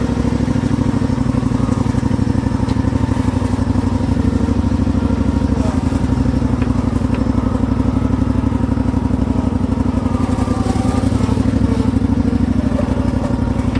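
A homemade wheel loader's engine runs steadily at close range, a constant mid-pitched drone with faint clatter and thumps as the machine steers sharply.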